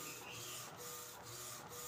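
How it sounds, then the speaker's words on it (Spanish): An Epson WorkForce 1100 inkjet printer prints a sheet with a steady mechanical whir and four regular swishes as the print head carriage sweeps back and forth, close and continuous with no speech. "Ahí va imprimiendo bien."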